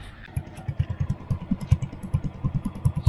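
Yamaha Mio Sporty scooter exhaust after an endurance run, with a tinny, worn-sounding muffler; the engine idles close by with a rapid, uneven putter of regular pulses throughout.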